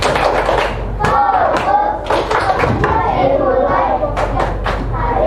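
Schoolchildren in a classroom perform a rhythmic focus clap, sharp sets of patterned hand claps and thumps on desks, loud and close, mixed with children's voices chanting along.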